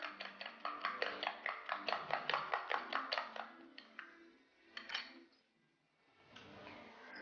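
Separated eggs are whisked in a bowl for prawn tapioca cutlets: a quick, steady run of close, light clinks as the whisk strikes the bowl, then a few scattered knocks and a quieter pause.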